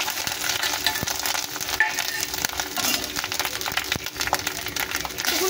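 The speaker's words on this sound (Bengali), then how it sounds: "নারকেলটা, যাতে একটু নারকেলের ভাজা ফ্লেমটা হয়, তার জন্য হালকা করে আমরা ভেজে নেব" Grated coconut fried lightly in hot oil for a vegetarian Holi dish, giving a steady, close sizzle with scraping stir strokes throughout and no talk.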